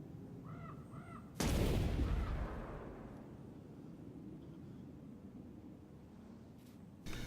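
A mortar fires in a video game with a sudden loud boom that decays into a long rumbling tail, preceded by faint crow-like caws.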